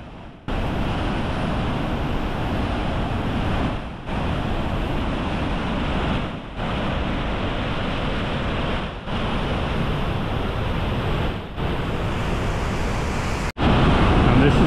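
Loud, continuous roar of heavy falling water from Vernal Fall in Yosemite, broadband and unbroken, with brief dips and a sharp cut near the end.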